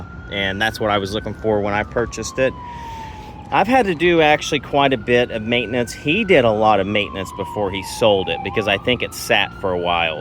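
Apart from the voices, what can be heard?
emergency vehicle sirens passing in background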